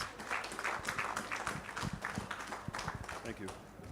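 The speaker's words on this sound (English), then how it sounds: "So we appreciate if you give him a big round of applause." Banquet audience at an anniversary awards dinner applauding, a dense continuous patter of many hands clapping at steady volume, with voices mixed in.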